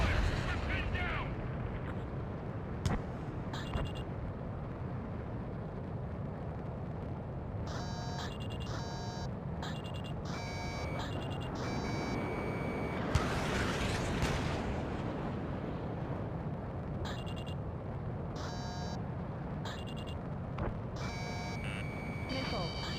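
A war video game fills with gunfire and booming artillery explosions, punctuated by sharp electronic warning beeps, with a steady rumbling battle bed and occasional voices over the top.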